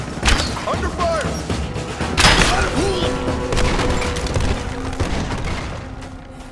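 Gunfire and impacts from the video game Rise of the Tomb Raider during a combat firefight, loud bursts and crashes layered with game effects and a voice speaking in the mix.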